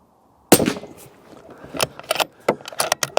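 A Bergara Crest Carbon rifle fires a single loud, sharp shot at a 100-yard range. Quieter handling clicks and brief voices follow.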